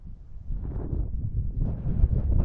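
Strong wind blows outdoors on a walking trail, buffeting the microphone with a continuous low, rumbling roar that gusts and swells toward the end, with no voices.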